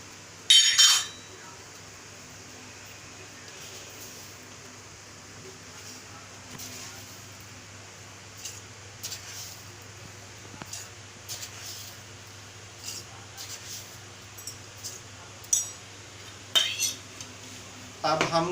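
A metal spoon clinks and scrapes against a pot or cup while sugar is stirred into a homemade immunity drink, with a sharp burst of clinks at the start and scattered light taps later, quiet room hum between.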